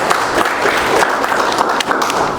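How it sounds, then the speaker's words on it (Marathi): Conference audience applauding to welcome a speaker, a dense, loud wash of clapping from many hands, continuous and close throughout the short stretch. "आपण सर्वांनी टाळ्या वाजवून त्यांचं स्वागत करू."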